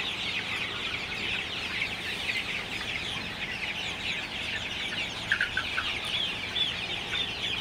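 Sonali super hybrid chickens, 42 days old, clucking on a small farm in Faridpur, a dense continuous chorus of many birds close by with a few sharper calls standing out, no voices.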